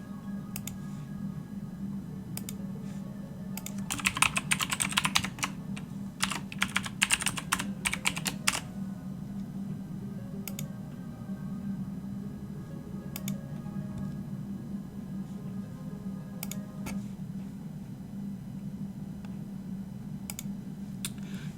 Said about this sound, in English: Yeah, Warwick, this is a mechanical keyboard. This is the Razer Black Widow.